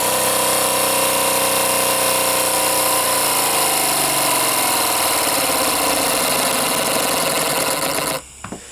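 A live steam model engine, a lightweight RC speed machine under 800 grams, runs loudly with a steady mechanical whir that climbs in pitch as it speeds up, then cuts off abruptly near the end.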